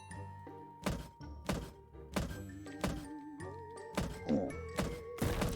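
Shot impacts in the game DreamCell: Lost in Nightmares land as a rapid series of identical dull thunks, about ten in quick succession, over a tonal game soundtrack.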